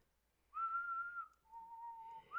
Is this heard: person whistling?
yes